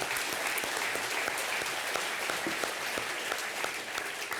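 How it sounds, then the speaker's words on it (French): An audience claps steadily throughout at an evening event celebrating regional attractiveness in 2024, dense, sustained applause filling the room with no speech over it. "Applaudir."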